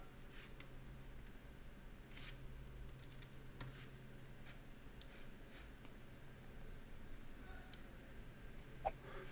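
A password is keyed in on a computer keyboard, a faint, quiet run of light clicks spaced irregularly over a low background hum.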